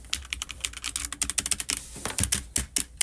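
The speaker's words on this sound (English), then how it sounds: "you can hear all the clicks on my keyboard" Rapid, crisp clicking of computer keys in irregular bursts, close up, with brief pauses between flurries of typing.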